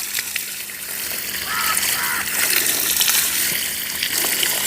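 Water splashes steadily onto garden plants in strong sun, a continuous rushing gush that swells a little partway through, fairly close and unbroken, with no talking.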